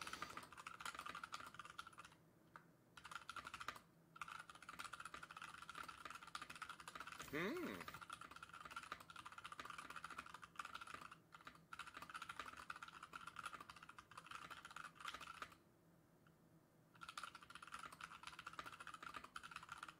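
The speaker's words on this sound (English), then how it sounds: "It all sounds different when, like, you're typing too, right?" Keys clatter on a mechanical computer keyboard in a dense, steady patter of clicks, close to the microphone, with someone talking over parts of it and brief pauses in the typing.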